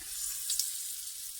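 Sweet potato cutlets fry in a pan with very little hot oil, producing a soft, thin, close-up hiss with a brief brighter crackle in the middle.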